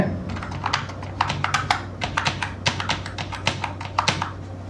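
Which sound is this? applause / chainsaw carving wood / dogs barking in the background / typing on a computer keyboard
typing on a computer keyboard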